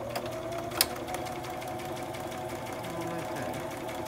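A sewing machine stitches a fabric pocket with a steady, continuous mechanical whir and one brief click near the start, with no talking over it.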